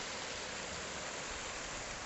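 Bright Angel Creek flows through the bottom of the Grand Canyon near Phantom Ranch in December, a steady, dense rush of water heard close and continuous, with no voices.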